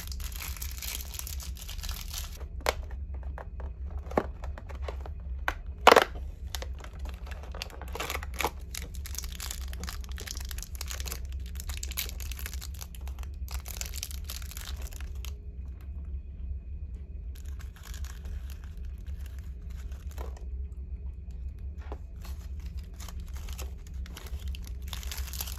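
Foil and paper wrappers on a chocolate advent calendar are torn and crinkled open in short, scattered bursts with one sharp rip partway through, against a steady low rumble of a ship at sea.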